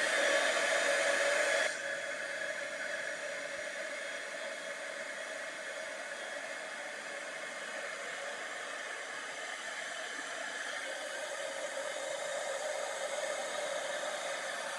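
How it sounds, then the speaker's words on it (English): A heat gun used for embossing on a papercraft treat box blows a steady hot-air whoosh throughout, louder for the first moment and then holding an even, continuous hiss and whir. "if your heat gun has been in use, it heats up quicker, and it melts it faster"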